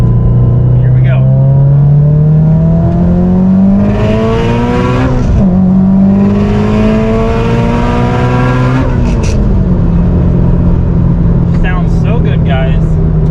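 A 2019-plus Subaru STI pulls hard under throttle from inside the car, engine pitch climbing steadily through gears with brief dips at each shift, loud and continuous.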